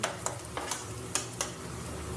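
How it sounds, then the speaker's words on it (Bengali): Black cumin seeds tempering in hot oil as spices fry on a low flame: a soft continuous sizzle broken by several sharp stirring clinks of a utensil against the pan. "এর মধ্যে একটু কালো জিরে ফোড়ন দিয়ে ভাজা ভাজা করে নিয়েছি।"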